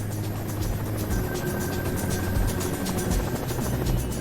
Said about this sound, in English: I can hear a helicopter.